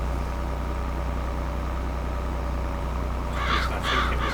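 A crow caws twice in a farming simulator game, short harsh calls rising near the end over a steady low idling tractor engine drone that fills the scene.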